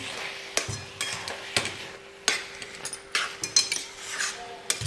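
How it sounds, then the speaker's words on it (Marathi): Spoon scraping and clinking against a pan while carrot halwa is stirred, irregular metallic knocks and scrapes at close range over a faint cooking hiss, no talking. "अजून 1-2 मिनिट मी व्यवस्थित परतून घेते."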